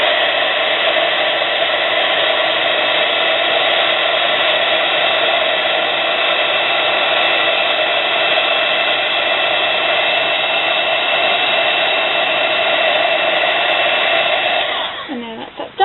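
A craft embossing heat gun blows hot air in a steady, loud, close whirring roar that holds unbroken for about fifteen seconds before cutting off abruptly.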